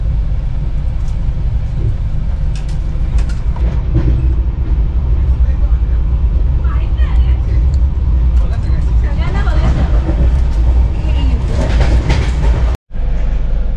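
Steady low rumble and rattling of a moving train carriage, continuous throughout, with faint voices chattering in the background.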